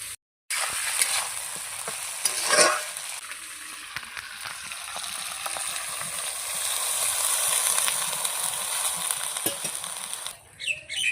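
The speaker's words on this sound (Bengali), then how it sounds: "এটা আমি ভালো করে মশলাটাকে কষিয়ে নেব, তারপরে জল দেবো" Spice masala frying in oil in a pan while being stirred, a loud close continuous sizzle with scraping spoon strokes, steady throughout and ending abruptly, no talk heard.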